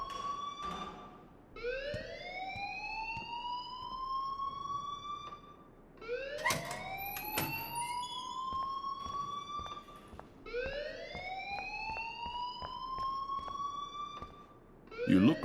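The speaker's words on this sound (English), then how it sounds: "please turn off that alarm since that's your job" Electronic alarm in the Life Is Strange video game, sounding in repeating rising whoops, each sweeping upward over about four seconds, fairly loud and alone with no talk.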